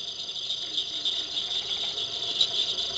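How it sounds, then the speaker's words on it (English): Cricket frogs call from a breeding pond in Alabama, forming a dense, continuous chorus of rapid clicks like marbles tapping, steady and fairly faint with no voices. "We hear cricket frogs, which sound like marbles tapping"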